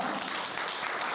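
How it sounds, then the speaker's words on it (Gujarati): At a Gujarati dayro folk-devotional gathering in Munich, Germany, an audience claps in a dense, even burst of applause that stays steady and close for a brief moment. "વાહ વાહ તાળી તાળી છે"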